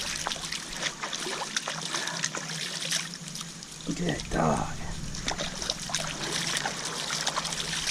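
Natural spring water trickles and splashes in a creek as a dog wades through it, a steady close babble with a brief louder splash midway, with someone talking over it.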